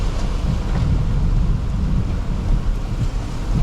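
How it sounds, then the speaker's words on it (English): Heavy rain pounds steadily during a Kansas tornado chase, with a deep rumbling roar of thunder and wind underneath, dense and close with no voices. "I'm getting smoked with rain there, Chuck."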